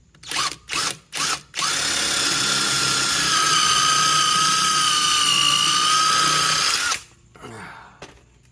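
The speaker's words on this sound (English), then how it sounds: "using a 3/8 bit, I'm going to put a hole just above center, and I'm going to drill it again." Power drill fitted with a 3/8 bit boring a hole in a boat hull for an Alpha 1 outdrive oil reservoir, with a few short trigger bursts followed by a loud, steady high-pitched whine for about five seconds.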